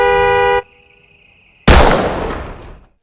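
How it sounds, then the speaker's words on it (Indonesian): A steady car horn blares for about half a second as a signal, then after a pause a loud sharp bang booms and slowly decays. "Tedo pun membunyikan klakson mobil sebagai kode"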